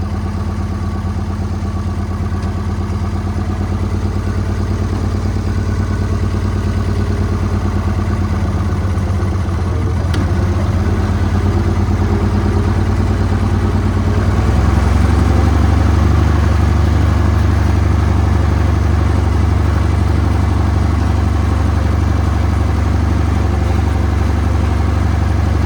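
A 1975 International Harvester 666 tractor engine runs steadily and loudly throughout, a deep continuous rumble that swells slightly in the second half as it gets underway.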